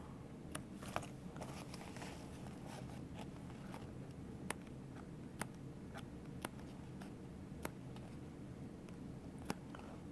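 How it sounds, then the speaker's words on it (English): Small scissors make a series of quick, quiet snips while cutting fabric for a Tiny Cata sewing project by Oro Rosa Sewing Patterns. The cuts come singly at irregular intervals over a soft, steady background hiss. "I am just doing my little snips"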